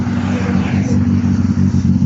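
A Peugeot 206 with a missing exhaust runs nearby with a loud, rough, low engine drone that holds steady and throbs slightly.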